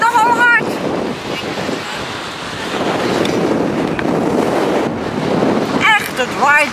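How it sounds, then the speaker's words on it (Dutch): Strong wind buffets the microphone at sea during a sail-out at a navy days event, a broad steady roar with surf and water noise, while voices talk briefly at the start and end. "Echt, het waait bikkelhard."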